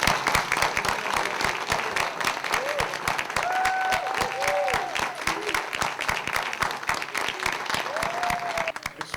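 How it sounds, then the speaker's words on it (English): Sustained audience applause at a small-town council meeting, dense clapping from a seated crowd filling the room for the full stretch, with a few faint voices and whistle-like tones rising briefly above it. "Let's give them another big round of applause."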